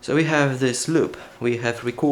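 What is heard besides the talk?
No everyday noises stand out.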